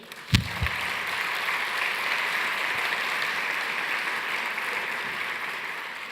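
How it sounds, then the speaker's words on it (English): A conference audience gives a speaker a round of applause after his talk; a sharp knock or thump opens it, then sustained, evenly spread clapping fills the room at constant strength. "Please give Bill a round of applause"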